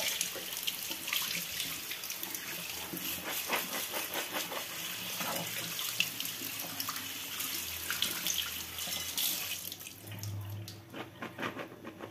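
Chickpeas are rinsed under a steady, close stream of running tap water that splashes into a kitchen sink throughout, with the flow shifting briefly near the end and no talk over it.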